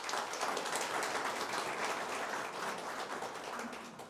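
Studio audience at a Pakistani special show claps together in a fairly soft, steady wash of applause that holds for a few seconds and eases slightly toward the end.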